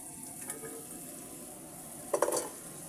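Bottle gourd stalks go into a pan of hot oil over a faint background sizzle, with a quick cluster of clattering and stirring knocks near the end.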